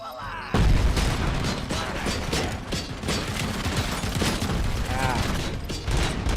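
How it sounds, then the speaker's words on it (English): Rapid machine gun fire rattles in bursts during a firefight in the video game RoboCop: Rogue City, loud sharp reports layered with mechanical clatter and occasional heavier booms. "Someone's shooting you with a machine gun of some kind"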